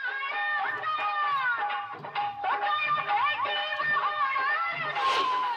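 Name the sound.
crowd of guests chattering at a cow's baby shower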